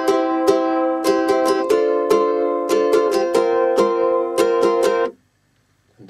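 Ukulele strumming a chord sequence at a fast tempo, crisp repeated strokes in a steady rhythm, close and clear, then stopping into near silence.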